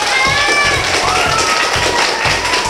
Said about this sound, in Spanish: así que vamos a darle un aplauso